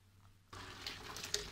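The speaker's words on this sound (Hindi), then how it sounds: "अब हम इसको इस तरीके से छन्ने में डाल के इसका पानी छान लेंगे।" Boiled twisted macaroni is tipped into a strainer, and after a quiet moment the water suddenly gushes and splashes through steadily, with a few louder spatters near the end.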